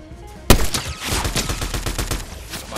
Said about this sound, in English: Bert just sniped one